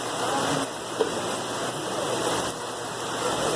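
Steady rain falling at Dollywood theme park, a continuous broadband hiss of drops on surfaces with a faint low rumble underneath and one small tap partway through.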